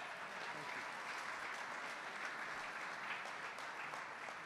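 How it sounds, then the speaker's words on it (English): Steady, dense applause from a crowd at a public funding announcement with Pennsylvania governor Josh Shapiro, sustained and even throughout, heard from a distance. "Give Josh Shapiro another round of applause."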